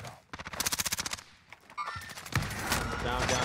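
Rapid bursts of automatic gunfire in Call of Duty Warzone, with a close run of evenly spaced shots followed by heavier, noisier firing and game effects.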